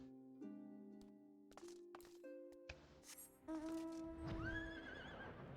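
A horse mount in Final Fantasy XIV gives a loud, drawn-out whinny that rises and quivers, preceded by short tonal game chimes and a few clopping hoof sounds, with no talk.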